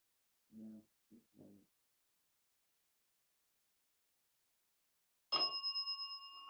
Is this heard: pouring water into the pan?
no